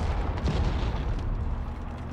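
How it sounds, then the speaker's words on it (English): Mortar explosions in the video game Far Cry 5, a dense, continuous rumble of heavy booms and bursts rolling together at steady loudness with no speech. "You're driving very calmly for someone who's getting mortared."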